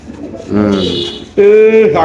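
A pigeon held up for sale coos loudly and close by in two drawn-out, throaty calls, the second stronger, with a faint murmur of people around it.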